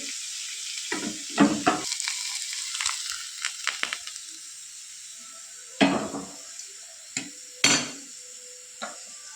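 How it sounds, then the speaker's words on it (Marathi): A hot tadka poured onto a gram-flour curry (besan pitla) of dried chickpeas sizzles steadily, with sharp clinks and scrapes of a pot and spoon cutting in at intervals, close up and with no talking. "आता हा तडका आपण बेसनावर टाकूया"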